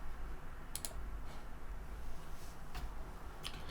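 A few light, sharp computer clicks sound faintly and close up in a quiet room, spaced irregularly over a few seconds.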